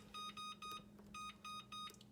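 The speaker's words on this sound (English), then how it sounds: "we will begin the timer for" An oven timer sounds a series of short, evenly spaced electronic beeps, about seven in two seconds, clear but quiet against a low steady hum in a home kitchen.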